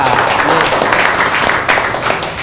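An audience at an Indonesian seminar on creativity and IT applauds a speaker, with dense, loud clapping throughout while a voice talks over it.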